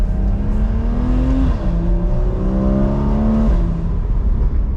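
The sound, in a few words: Porsche Boxster 981 engine revving with the top down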